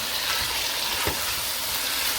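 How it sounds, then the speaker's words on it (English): Chicken frying in a pan with tomato and curry for Guyanese-style curry bora, a steady broadband sizzle close by with a brief stir partway through, no voices. "I'm gonna fry the chicken with the tomato and the curry"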